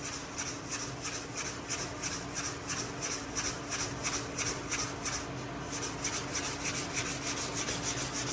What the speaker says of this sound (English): it's just, you know, crazy to see him sanding on Dad's car